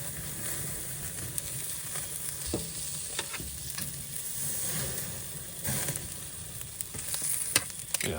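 A steak sizzles and fries on a hot, charred grill with a lid (an egg-style cooker), giving a steady, close crackling hiss with scattered pops and no talking.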